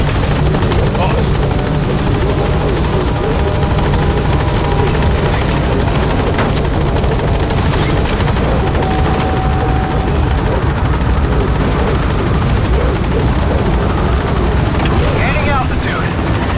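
Support helicopter Pequod from the video game Metal Gear Solid V arrives at a landing zone and lifts off, its loud, close rotor thudding steadily throughout while radio voices talk over it.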